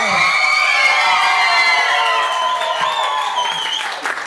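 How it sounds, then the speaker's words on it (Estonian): Loud, close applause from an audience at a playback show, with children shouting and cheering over steady clapping that eases slightly toward the end. "Teeme neile suure aplausi."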